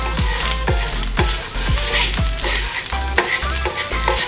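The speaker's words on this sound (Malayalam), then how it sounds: "ഇനി അത് എല്ലാ സ്ഥലത്തും ആ വെളിച്ചെണ്ണ ഒന്ന് നമുക്ക് ആക്കി കൊടുക്കാം" Coconut oil sizzles steadily on a hot iron tawa, with a loud continuous crackle and a few soft scraping strokes as it is spread across the surface, no voices.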